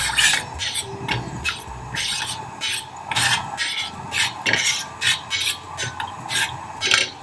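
Whole cinnamon and cloves are stirred in hot oil in a frying pan, giving a steady sizzle with repeated rhythmic scraping strokes of the utensil against the pan, close and moderately loud.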